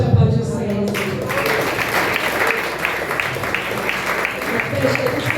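A church congregation at a Sunday celebration service breaks into loud, continuous applause, with a voice speaking over the dense clapping at the start.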